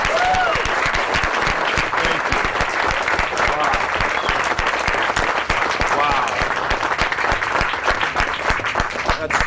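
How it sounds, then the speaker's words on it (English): Audience at a political fair event applauds nurses, a dense, steady wash of clapping lasting throughout with voices mixed into the crowd noise. "Give them a great applause."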